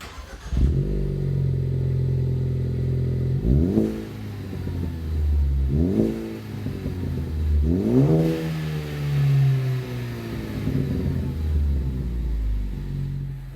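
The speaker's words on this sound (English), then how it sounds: "Now let's fire it up with our COBB exhaust." A 2013-2018 Ford Focus ST fitted with a stainless steel 3-inch COBB cat-back exhaust cranks and fires up, settles into a deep idle, then gets blipped through three or four rising revs with a clean, low exhaust tone.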